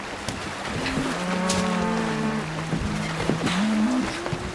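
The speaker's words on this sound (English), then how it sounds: "Can't you hear those cattle bellowing?" Cattle bellowing loudly aboard a naval ship in a period drama, long drawn-out moos rising and falling in pitch, with several animals lowing one after another over a dull background rumble.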